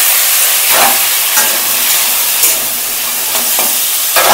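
Nigella seeds and a small handful of chickpeas temper in hot oil with a loud, close, steady sizzle and hiss, broken by a few brief crackling bursts and utensil scrapes.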